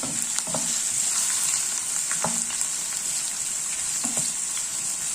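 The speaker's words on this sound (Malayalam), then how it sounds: "ആറേഴ് സ്പൂൺ വെളിച്ചെണ്ണ ഒഴിച്ച് ചൂടാക്കിയിട്ട് നമുക്ക് ഈ ഇഞ്ചി വറുത്തെടുക്കാം" Ginger frying in several spoons of hot coconut oil, a steady close sizzle and crackle running throughout with a few soft clinks of stirring, no voices.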